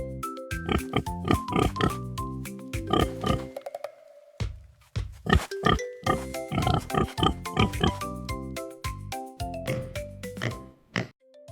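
Repeated pig oinks and grunts in quick bursts over a musical backing, with a brief pause midway.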